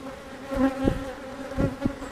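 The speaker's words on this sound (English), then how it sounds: "That's the one we just shook all the bees into the top" Honey bees buzzing around an old beehive just after being shaken into the top box, a close, steady hum with a few louder passes by individual bees.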